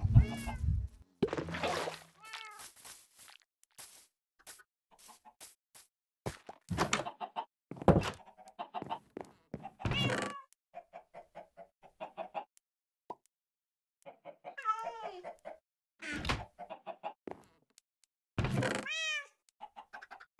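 Cats meow in a Minecraft-style survival game at nighttime, with repeated short mews scattered across the span between other game noises such as clucks and thunks, fairly close and clear with no talking.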